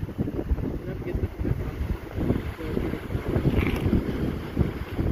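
Strong wind buffets the microphone on an exposed stretch of the Wellington waterfront, rumbling in uneven low gusts that rise and fall continuously, with open outdoor ambience behind it.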